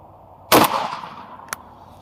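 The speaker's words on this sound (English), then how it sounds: "I'm gonna shoot this through the trunk, which should have a little bit more material. We're gonna shoot it again and see what happens." A shotgun slug fired into a car trunk gives one sharp, loud blast that decays over about a second, followed by a brief faint metallic click or clack, with no voices.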